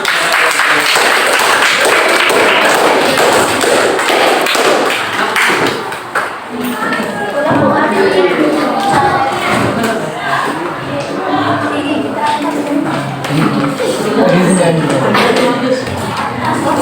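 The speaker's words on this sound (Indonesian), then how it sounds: "Kita berikan aplaus." Classroom audience applause as a student group is called to present: a steady, dense wash of clapping from many hands that lasts throughout, dipping briefly midway, with some voices mixed in.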